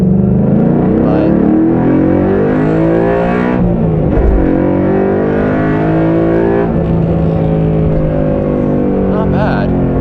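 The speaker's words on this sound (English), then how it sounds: "a little bit more of a crackle on the on the decels when you kind of put it in gear" A loud Ford Mustang Boss 302 V8 engine with a Flowmaster American Thunder cat-back exhaust rumbles steadily, with popping crackles from the exhaust as the revs drop and rise again.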